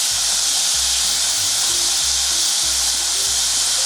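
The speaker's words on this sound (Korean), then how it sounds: "갈아 놓은 거를 바로 볶아줄 거예요" Ground rice cake mixture with minced garlic and soy sauce stir-frying in a hot pan, a steady loud sizzle with hiss throughout, with low clatters as it is stirred.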